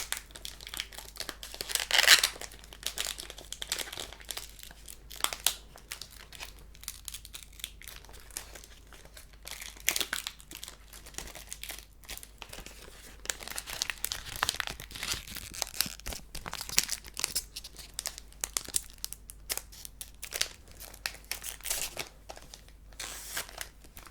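A Pokémon card booster pack is worked open by hand. Its foil wrapper gives off quiet, close crinkles and small tearing rustles in irregular bursts over a long stretch.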